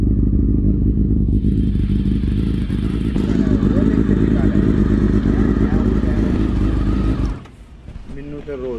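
A BMW replica motorcycle fitted with a swapped Honda CBR400 single-cylinder engine runs loud and close, its engine note holding steady before dropping off abruptly near the end, with voices faintly in the background.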